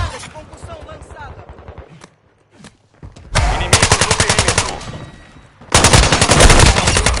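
Loud rapid-fire automatic gunfire in Call of Duty: Modern Warfare 2 multiplayer in two long bursts, with a brief quiet gap and lighter mixed game sounds before the shooting starts.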